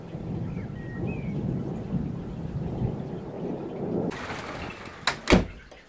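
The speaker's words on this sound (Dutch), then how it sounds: "Met onweer en het hagel" Thunder rumbles during a hailstorm, a low continuous roll under steady rain, then sharper cracks and a loud close crash near the end.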